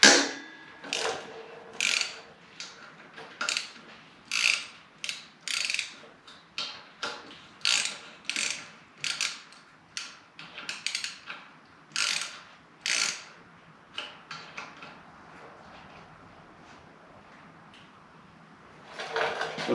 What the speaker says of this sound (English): we're going to go ahead and loosen up these axle caps here.